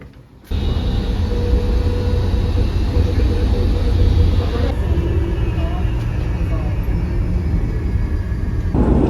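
Steady low rumble inside a moving tram in Budapest, Hungary, constant and loud, with faint mechanical whine and no clear talking.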